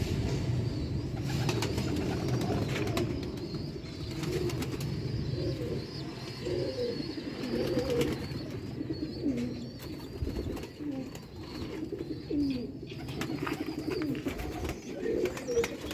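Sialkoti chuhe pigeons on a rooftop in Sialkot coo over and over in soft, rhythmic bursts, fairly close, with other birds chirping faintly against a steady outdoor hum.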